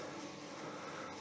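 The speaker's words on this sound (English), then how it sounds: "we've got the VFD's just kicked in now, and then you adjust the speed" Viceroy TDS6 wood lathe motor running on a VFD, a steady broadband whirring drone that holds even and fairly quiet throughout.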